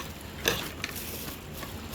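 Sautéed tofu with celery, onion and chili being stirred in a pan: a soft continuous sizzle with a few light scraping clicks of the utensil, close and fairly quiet.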